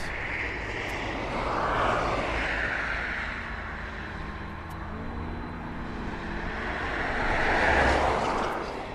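A steady, loud aircraft engine drone from old 1998 aircraft footage, swelling and fading slightly as the plane passes, with no voices.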